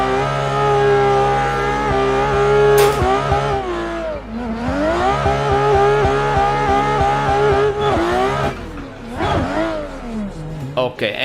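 VDC F22 race car in the Assetto Corsa sim racing game, its engine revving loudly and continuously through upshifts and downshifts, with tire squeal and a hard impact near the start.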